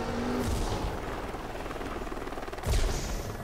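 A helicopter in the driving video game Driver San Francisco, a continuous chopping rotor drone with rhythmic pulsing and a couple of low thumping booms, heard steadily at moderate level.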